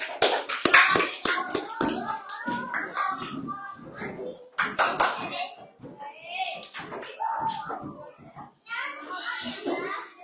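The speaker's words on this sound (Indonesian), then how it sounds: "Kita tepuk tangan dulu biar semangat." A class of children claps hands together in a classroom, with bursts of sharp, rhythmic claps alternating with children's chanting and a teacher's voice leading the cheer.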